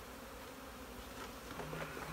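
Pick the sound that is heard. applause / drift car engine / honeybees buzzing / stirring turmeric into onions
honeybees buzzing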